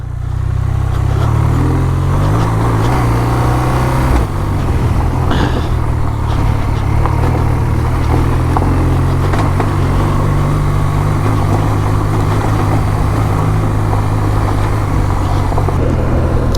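A BMW R 12 G/S motorcycle rumbles loudly and close while riding on and off road, its engine note shifting through rises and drops as the rider downshifts, with steady wind and road noise throughout.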